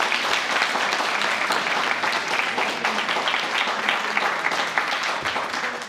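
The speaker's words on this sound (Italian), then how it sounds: "Fatevi un applauso." A school audience of students and teachers applauds itself, an even, continuous wash of many hands clapping at steady loudness for about six seconds.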